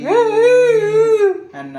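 A dog howls close and loud in one long, wavering tone that drops off, followed by a brief second howl starting.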